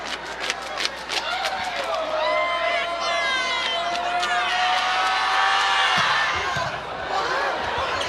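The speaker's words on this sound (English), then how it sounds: "Much deserved a round of applause for the serving sub who came in and really did a nice job." Volleyball match crowd at the Big West Championship, Hawaii versus UC Irvine, applauding and cheering loudly and steadily for a serving substitute, with whoops rising over the roar and a ball slap near the end.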